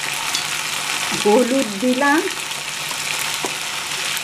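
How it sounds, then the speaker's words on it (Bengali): Green chilli, ginger and cumin fry in hot oil with turmeric, giving a steady close sizzle with stirring scrapes, while someone talks briefly. "কাঁচা লঙ্কা, আদা আর জিরে দিয়ে আমি এবার ভাজা ভাজা করে নিচ্ছি।"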